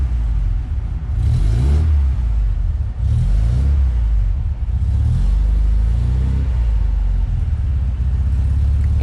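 A 1979 Alfa Romeo Alfetta with its 2.0 engine revs up loudly several times close by, each rising burst settling back into a deep, steady idle rumble.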